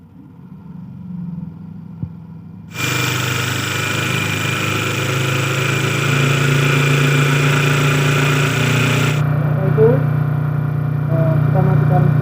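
A DC motor is switched on and runs at 100 volts, starting abruptly after a quiet lead-in and settling into a steady, loud whirring hum with a bright high whine that later drops away, leaving a lower running drone.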